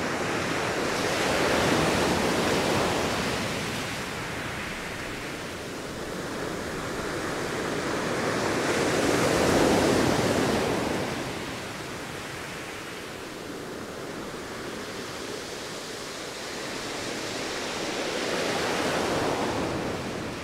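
Sea waves roll onto the shore in broad, slow surges of rushing noise, swelling and receding about three times, loud and close, with wind blowing over the microphone and no voices.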